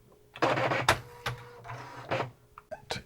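An Okidata Okimate 20 printer prints out a program listing, giving bursts of buzzy dot-matrix head chatter broken by short clunks and pauses. The sound is close and fairly loud, with no talking.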